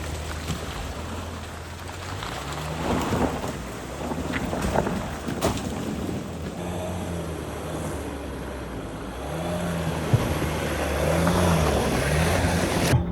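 A two-wheel-drive off-road overlanding vehicle drives through a muddy hole on a forest trail, its engine droning steadily with shifting pitch under wind noise and rough rumbling from the terrain.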